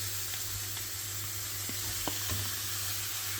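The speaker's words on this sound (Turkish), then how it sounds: "Kızan tavamızın içine 850 gram kuşbaşı doğradığımız eti atıyoruz." Steady, loud sizzling fills the air as 850 grams of cubed meat sears over high heat in a hot pan for Turkish kavurma, with a few faint knocks and clicks of stirring.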